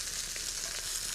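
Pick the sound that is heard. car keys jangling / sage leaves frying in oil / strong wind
sage leaves frying in oil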